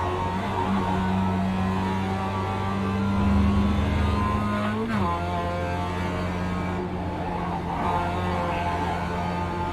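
A racing car engine in a racing video game holds a steady, loud drone, with a sudden pitch drop at a gear shift midway before it climbs and settles again. No voices are heard.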